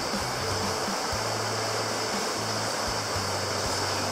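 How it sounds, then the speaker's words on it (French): A small river in New Zealand's backcountry near Greenstone Hut rushes steadily, a constant broadband wash of flowing water with no voices, with low rumbling underneath. "Voilà la petite rivière qui est là."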